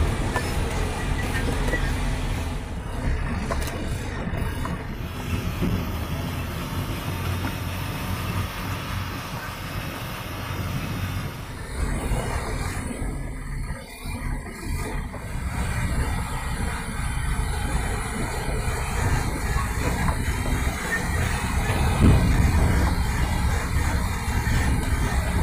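An Ashok Leyland 3525 tipper truck being driven, its heavy diesel engine rumbling continuously with road and cab noise heard from inside, steady and loud throughout with no clear speech.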